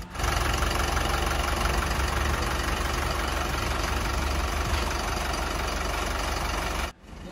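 An Isuzu QKR diesel truck engine, smoking heavily, idles steadily and loudly for several seconds, a deep constant rumble with a faint knock, cutting off abruptly near the end.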